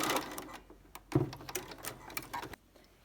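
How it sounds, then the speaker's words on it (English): A sewing machine back stitching a zip pouch for a quilted star project, making a short stop-and-go run of close mechanical whirring and clicks over a few seconds, then going quiet. "I'm just going to back stitch right here."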